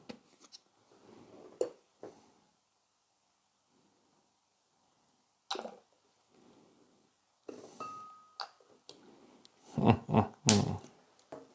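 Scissors snipping thread, a few short sharp cuts scattered through otherwise quiet room sound, with a cluster of louder rustling and handling noises near the end.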